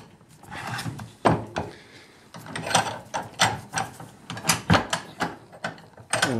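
A metalworking vise on a workbench is cranked, giving repeated ratcheting, clicking mechanical turns in an irregular rhythm, close and distinct with no talk.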